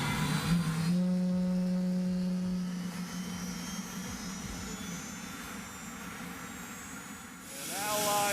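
A jet-powered motorcycle engine at tickover gives a loud, steady turbine roar with a high whine, close by and continuous throughout, with a brief tonal rumble near the start.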